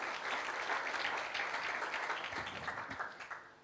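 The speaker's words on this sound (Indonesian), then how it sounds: "Mari berikan tepuk tangan buat Tuhan kita." A congregation applauds during an online church worship service, sustained crowd clapping at a moderate, slightly distant level that eases off near the end.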